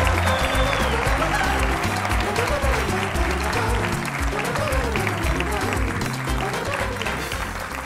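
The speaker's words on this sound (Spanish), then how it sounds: "Un fuerte aplauso para Patrick Criado." A studio audience applauds for actor Patrick Criado on a late-night show, with dense, sustained clapping and some crowd noise throughout, loud and near, fading slightly toward the end.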